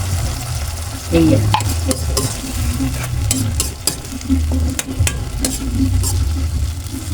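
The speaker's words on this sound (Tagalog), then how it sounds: "Lagyan na natin guys yung ating sahog. Yung ating sardinas." Sardines are stirred into a hot pan for sautéed sponge gourd with misua, sizzling and frying steadily while a spoon scrapes and clinks in a repeating rhythm, close and fairly loud, with one brief spoken word.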